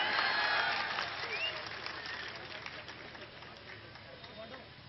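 A large crowd at an outdoor political rally in Bhavnagar, Gujarat, bursts into applause and cheering, a dense wash of clapping that starts loud and gradually fades over several seconds.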